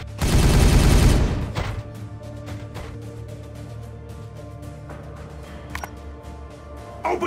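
Gunfire in the Warhammer 40K Regicide video game: a loud, dense burst of shots lasting about a second, then a quieter battle bed with scattered weapon hits and a final burst.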